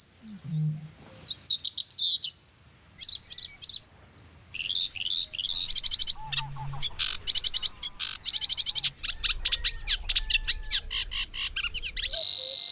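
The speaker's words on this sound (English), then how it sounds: "In the marsh, the new dawn is welcomed by a symphony of cormorant, reed bunting, blue throat, sedge warbler and savvy's warbler." A dawn chorus in a Dutch marsh, with cormorant, reed bunting, bluethroat, sedge warbler and Savi's warbler, fills the air with bursts of chirps, trills and rapid warbling phrases, close and clear. Low croaks and a buzzing reeling sound underneath.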